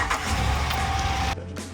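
A Ram 1500 pickup truck engine catches and runs close by with a loud, steady rumble that shifts abruptly near the end.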